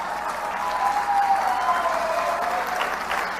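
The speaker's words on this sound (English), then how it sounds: "You can clap now if you want." Audience at a health lecture breaking into steady applause, a fairly faint, even patter of clapping lasting a few seconds in a large room.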